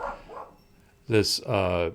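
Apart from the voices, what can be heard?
dog barking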